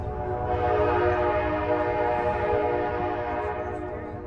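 A passing train blares a long, loud sustained horn from close by, with the rumble of rail cars underneath, holding steady for several seconds before easing slightly.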